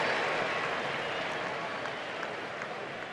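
A stadium crowd at a Reds vs Phillies baseball game claps in a dense, steady wash of applause that fades slightly over a few seconds.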